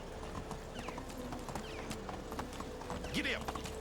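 Horse hooves clip-clop in a steady rhythm in the medieval video game Medieval Dynasty, moderately close, with clattering game effects and a brief voice near the end.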